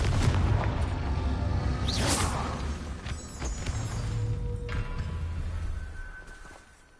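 A Confringo blasting spell goes off in a Harry Potter video game, a muffled booming burst with a crackling tail that rumbles on and fades, fairly quiet and without talk.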